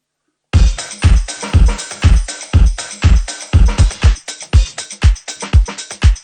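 A drum kit plays a steady beat of kick and snare hits treated with an exaggerated early-reflections effect, each hit punchy and followed by a short roomy smear, loud and alone.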